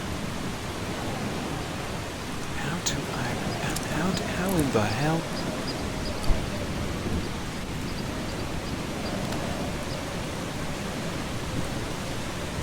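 A continuous rain-soaked thunderstorm in Eastshade pours on without pause while someone talks over it briefly, thin chirpy ambient tones drifting in the middle.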